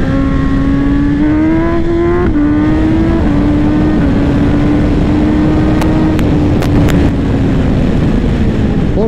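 A 2024 BMW M 1000 XR Competition motorcycle engine drones loudly and continuously while riding, holding a high steady pitch with small shifts between gears, close and unbroken, with wind rush underneath.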